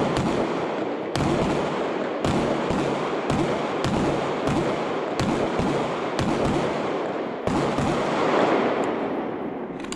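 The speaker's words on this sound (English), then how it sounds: "4 shots to the mash, 2 shots to the head." Sig Sauer P320 M18 pistol shots fired in a shooting drill ring out as sharp, loud reports, about nine evenly spaced cracks over ten seconds with brief echoing tails between them.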